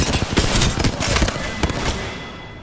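Weapon fire in Apex Legends, a dense burst of loud, close shots in the first half that fades into a decaying tail.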